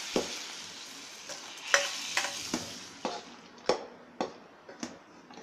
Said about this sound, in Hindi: अब ये बरियां हम इसमें डाल देंगे।